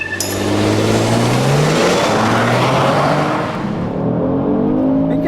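Engine of a 2018 Kia Stinger GT under acceleration while driving, rising through gears with clear upshifts, a loud continuous revving whine that climbs, drops and climbs again with no talking.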